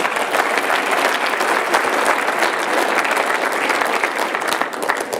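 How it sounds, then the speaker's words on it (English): A crowd at a political debate on the TPPA applauds itself with loud, close, continuous clapping, crisp individual claps audible within the steady wash for several seconds. "so give yourselves a round of applause."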